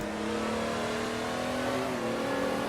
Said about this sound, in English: Except it sounds like a Nissan GTR.